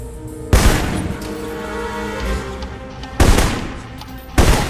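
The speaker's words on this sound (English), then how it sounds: "They may be out of reach, but not rifle range." Rifle fire in the Alpha Protocol video game: three loud, sharp gunshots spaced a few seconds apart, each with a short reverberant tail over a low steady background hum.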